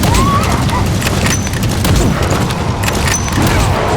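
Gunfire in Metal Gear Solid V, loud dense bursts of shots over a constant rumbling roar, with voices mixed into the clamor.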